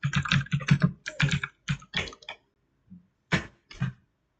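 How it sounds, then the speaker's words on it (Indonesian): Keystrokes clatter on a computer keyboard in quick bursts of rapid clicks, with short pauses between runs and a couple of isolated taps near the end, close and clear. "Kita bisa ngetik."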